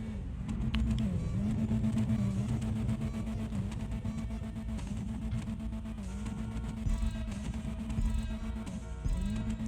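Car engine in the video game GTA Online rumbling and revving continuously, pitch rising and dipping as the throttle changes, steady and sustained without speech.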